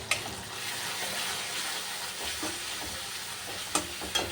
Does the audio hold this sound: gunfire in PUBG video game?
no